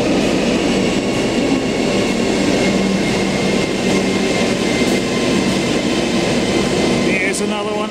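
A train rolls into a station platform, a loud, continuous rumbling roar with steady wheel and rail noise close by, ending in a short high metallic squeal as it slows.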